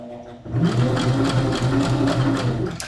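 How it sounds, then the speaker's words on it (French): A sewing machine stitches a curve in fabric with a close, rapid, even mechanical patter that runs steadily for almost the whole stretch after a brief quiet start. "je vais présenter à ma machine à coudre là, en ligne droite la courbe"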